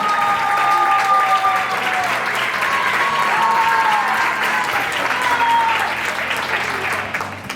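An indoor crowd claps loudly and continuously for a player at a women's all-star foosball event in Lugo, the sustained applause holding strong before easing slightly at the end, with faint talk mixed in.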